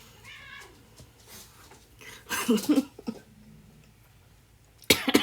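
A house cat gives a few raspy meows and cough-like sounds at close range, interspersed with quiet pauses and a sharp burst at the end.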